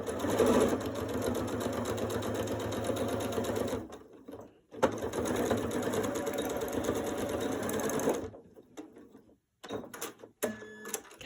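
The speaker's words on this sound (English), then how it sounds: "we're going to back stitch right here." A sewing machine back stitching a seam on a quilted stocking runs in a steady, close whir for about four seconds, pauses briefly, runs again, then stops with a few short stitch bursts.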